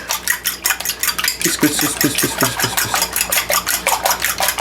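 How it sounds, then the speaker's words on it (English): Eggs with a pinch of salt whisked in a bowl for an omelette, a rapid rhythmic clinking of the whisk against the bowl, close and steady, with short pauses between bursts. "we're just gonna whisk away"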